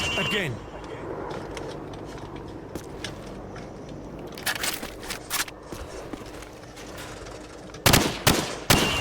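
Gunfire in the video game Call of Duty 4: Modern Warfare, with scattered single shots early and a loud burst of rapid shots near the end, over a background of game ambience and some talk.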